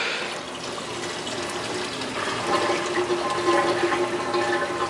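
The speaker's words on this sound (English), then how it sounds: "Water comes down through the DIY overflow, hits the Micron sock. Water flows through here, hits the chamber, flows down to into the refugium" Water rushes steadily through a homemade overflow into a 55-gallon reef aquarium sump with a micron filter sock, a continuous close gurgling flow that swells slightly midway.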